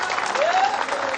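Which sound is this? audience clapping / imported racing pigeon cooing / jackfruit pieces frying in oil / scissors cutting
audience clapping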